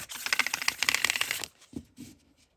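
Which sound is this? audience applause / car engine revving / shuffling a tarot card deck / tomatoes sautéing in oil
shuffling a tarot card deck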